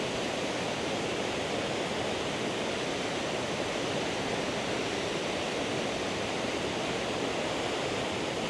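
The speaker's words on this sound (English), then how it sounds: "there's definitely some pretty cool looking waterfall views that you can get from right here" Waterfall at Krka National Park in Croatia, where rapids end, gives a steady, dense roar of rushing water that stays at an even loudness throughout, with no voices.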